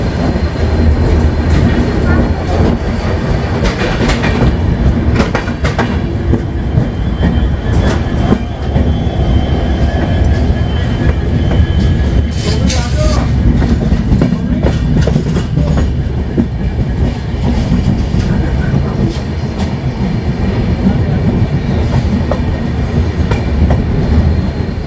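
The Darjeeling Mail, running from NJP to Sealdah, rumbles loudly and continuously from inside a coach, with a steady roar of wheels, rhythmic clickety-clack and occasional squeals and rattles.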